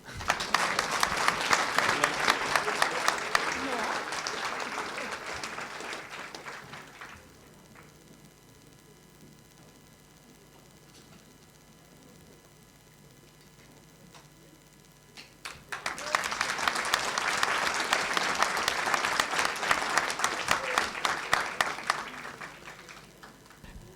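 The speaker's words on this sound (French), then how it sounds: "Est-ce que vous pouvez l'applaudir?" Applause at a municipal council meeting, a roomful of people clapping steadily for several seconds, fading to quiet room murmur and then rising again into a second sustained round of clapping.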